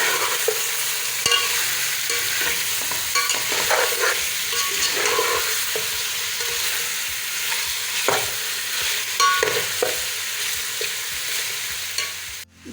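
A spoon stirs cumin powder, coriander powder, turmeric and salt in hot oil for chicken egg biryani, with repeated scraping strokes over a soft, continuous sizzle close by.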